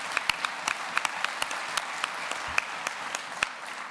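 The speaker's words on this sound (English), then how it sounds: "we should clap for that, Mr. President, we should." A convention audience claps after a politician's remark about the PRO Act, producing a fairly faint, steady wash of applause dotted with crisp individual claps throughout, with no talking over it.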